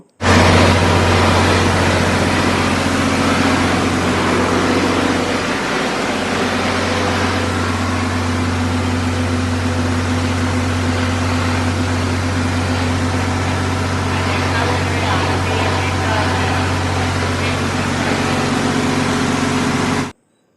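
A 1997 Farmtrac tractor with a self-start diesel engine idling close by, giving a loud, steady low drone with a constant hum that holds without a break.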